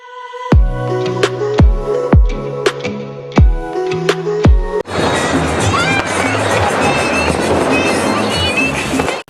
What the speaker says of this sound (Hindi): बच्चे वहाँ पटाखे जला रहे हैं